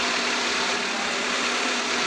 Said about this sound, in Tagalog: maganda pa andar ng makina.